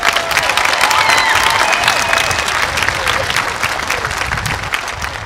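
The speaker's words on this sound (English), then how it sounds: "Let's give them all one more round of applause, please." A high school graduation audience gives a loud, sustained round of applause with scattered cheers and whistles, the dense clapping gradually thinning toward the end.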